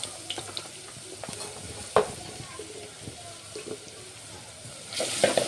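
Ginger garlic paste cooking in a pan with bay leaf, giving a soft sizzle under a few utensil clinks and scrapes, plus a louder clatter near the end.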